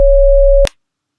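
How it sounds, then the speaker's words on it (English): A steady synthesized electronic tone made of two sine waves multiplied together holds evenly, then cuts off abruptly with a brief click, followed by silence. "So this is 2 sine waves multiplied together"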